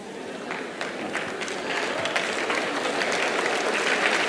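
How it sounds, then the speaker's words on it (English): Large audience at a Sundar Pichai talk breaks into applause that builds and spreads around the room, starting with scattered sharp claps and swelling into a dense, sustained roar of clapping, with no talk over it. "This is one of those applause"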